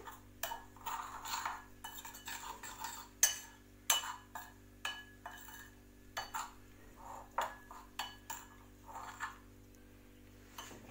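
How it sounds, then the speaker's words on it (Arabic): Metal utensils clink and scrape against a bowl in repeated irregular strokes while mixing chopped parsley and coriander with fish, close by and fairly quiet, with no talking. "غادي نخلط الكل"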